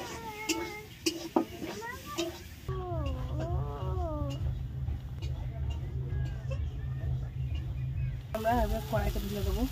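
Dal tempering pours into a hot wok (kadai) and sizzles steadily, a broad frying hiss that runs through the middle of the clip, with a person talking over it throughout.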